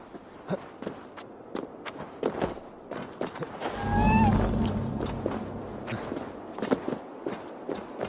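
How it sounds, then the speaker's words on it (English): A little cat in Assassin's Creed Valhalla meows in a brief wavering cry, set among soft game footsteps and ambient noise with a low rumble midway. "Who put you up here, little cat?"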